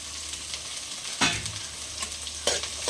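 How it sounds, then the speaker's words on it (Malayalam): Green chilli and half a capsicum sizzle in a hot pan, a continuous close hiss with two louder bursts as the vegetables are stirred, and nobody talking. "ഒരു പച്ചമുളകും ഒരു പകുതി ക്യാപ്സിക്കവും അതും കൂടി ചേർത്ത് കൊടുക്കുകയാണ്"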